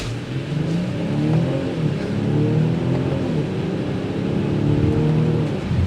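A 2023 BMW X5 xDrive40i engine revs and accelerates hard in sport mode, pitch climbing through successive gear shifts, loud and close with no talking.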